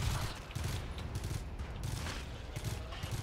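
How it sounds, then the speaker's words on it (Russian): A sentry turret fires in GTFO, sending a rapid, continuous burst of automatic shots that rattles in an even rhythm, moderately loud and close, with no voices. "Начала работать турель."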